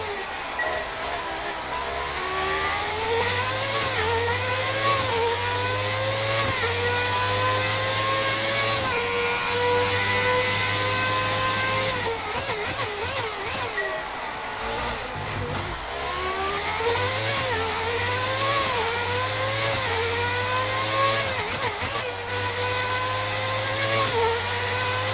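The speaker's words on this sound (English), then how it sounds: "let you guys enjoy the sound of this McLaren. This sound is absolutely amazing." A McLaren F1 car engine in the racing game F1 2019 screams loudly and continuously, with repeated rising rev sweeps through gear changes, brief dips and sharp stutters mid-run, heard alone with no talking.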